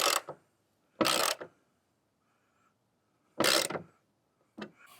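Ratcheting wrench tightening bolts on vehicle light pod mounts, in four short bursts of close clicking separated by pauses.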